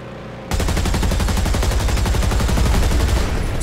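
A .50 cal machine gun in War Thunder opens up after a brief pause, a loud, rapid, continuous burst of close gunfire sustained to the end.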